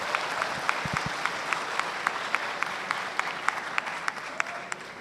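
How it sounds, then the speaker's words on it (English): Audience applause at a university public lecture on coexisting with diversity: steady, moderately close clapping from a seated crowd with sharp individual claps standing out, alone without speech. "Ladies and gentlemen, please give a warm round of applause to our Excellency Dr. Ali Rashid An-Nuaimi"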